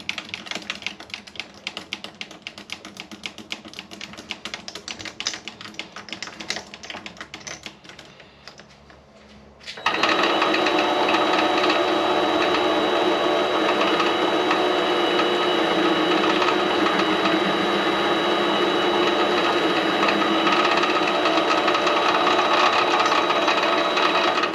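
A lathe cuts a chamfer on an A36 steel billet. Light, irregular ticking and clatter give way midway to a loud, steady, broadband machining roar with a thin high whine that holds to the end.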